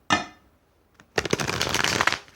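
Tarot cards shuffled once by hand: a short riffle burst at the start, a brief quiet pause with a faint tap, then a longer, denser run of rapid papery flicks and slaps, close and fairly loud, with no talking.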